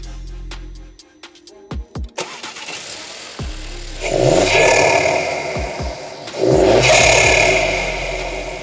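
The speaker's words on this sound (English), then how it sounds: "let's have a listen to the sound of the induction kit" An Audi A3 TFSI engine with an induction kit and a custom stainless exhaust with the back box deleted cranks, catches and idles with a clattering rumble, then revs up loudly twice with a rushing intake roar between quieter idle stretches.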